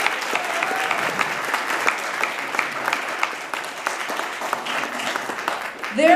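A crowd at the Antelope Valley Senior Center in Lancaster applauds, steady clapping of many hands filling several seconds and fading slightly toward the end.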